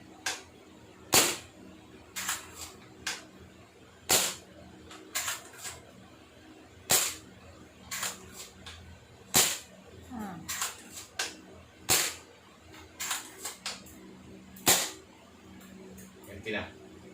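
A VSR-10 bolt-action airsoft sniper rifle test fired, giving a series of sharp, snappy shots spaced a second or two apart, with quieter bolt handling and faint talk in between.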